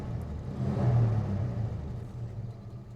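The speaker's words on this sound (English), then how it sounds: "I think I might put the idle down too low" Rover P4 car engine idling after tuning and a mixture adjustment, a steady low rumble throughout with a slight swell in the middle, close and alone with no talking.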